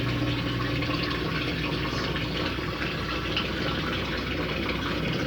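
An Ative washing machine drains water during its self-test cycle, giving a steady, loud, broadband rushing and gurgling that runs unbroken throughout with no voices.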